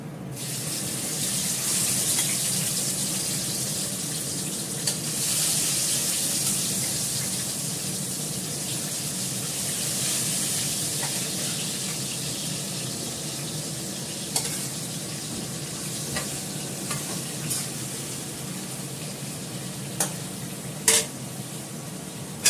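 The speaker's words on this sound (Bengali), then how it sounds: "এবার মাছটা ভেজে নেব" Fish frying in a pan, a steady broadband sizzle that runs throughout, close and fairly loud, with a few sharp clinks and scrapes near the end.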